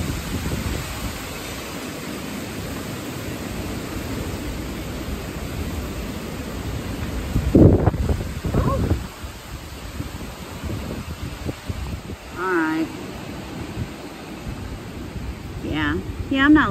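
Hurricane Beryl wind roars steadily around big trees, a dense broadband rush with a louder gust midway, and a voice speaks briefly near the end.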